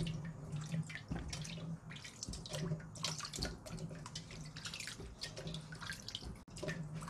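Chayote is rinsed under a running kitchen tap, a steady close hiss of water with splashing and small knocks as the vegetables are handled throughout.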